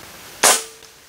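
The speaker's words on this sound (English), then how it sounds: "So here's the first of three shots." A single sharp pop from an airgun fitted with a 3D printed suppressor, close and brief with a short fading tail, in an otherwise quiet room.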